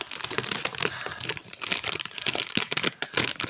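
A SpongeBob SquarePants sticker packet being torn open by hand, with steady crinkling and crackling of the wrapper running close and fairly loud throughout, in short uneven bursts.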